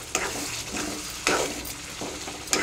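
Bommidi fish tomato curry sizzling in hot oil in a pan, a close steady frying hiss broken by a few stirring scrapes, with no one talking.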